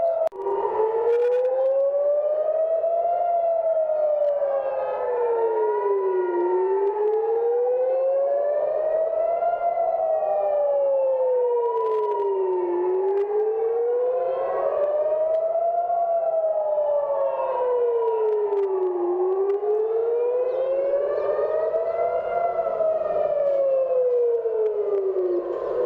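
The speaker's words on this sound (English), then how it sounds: "this is the siren right now in the city center of Jerusalem" Civil defense air raid siren wailing across Jerusalem's city center, a loud sustained tone rising and falling in slow, even cycles for the whole stretch, heard from inside a bomb shelter with no talking.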